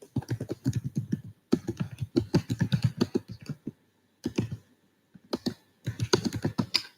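Typing on a computer keyboard comes in quick, close bursts of clicking keystrokes, broken by brief pauses and a longer gap near the middle, with no talking.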